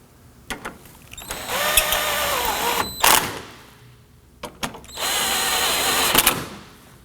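A power drill tightens the cooling fan assembly bolts on a 2018-2024 Toyota Camry 2.5L four-cylinder, with two close, sustained whirring bursts separated by short clicks and a pause.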